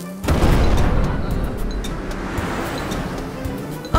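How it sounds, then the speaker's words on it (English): A cartoon volcano erupts in a loud, rumbling roar that starts abruptly and then sustains as a dense, surging wash like crashing surf before tailing off. "I think the volcano is erupting."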